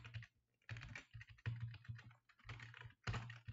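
Fingers type on a computer keyboard in quick, uneven bursts of close, crisp key clicks with brief pauses between runs, and no voices.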